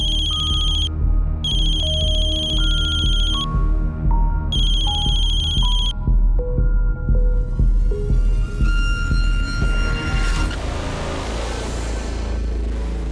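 A mobile phone rings with an incoming call, its melodic electronic ringtone repeating loudly and steadily in a series of tones over a low background rumble, with no voices.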